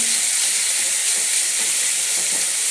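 Sliced onions fry in hot oil with cumin and fennel seeds, giving a steady, dense sizzle with fine crackles. The hiss stays loud and close for the whole stretch, with no talking over it.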